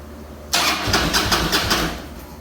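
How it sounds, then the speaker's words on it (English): An old starter cranks a Harley Davidson Big Twin Softail engine in a steady, rhythmic churn of repeated compression pulses, loud and close, starting abruptly and running on without firing. "I know the starter's probably going to make a little noise if I go too long"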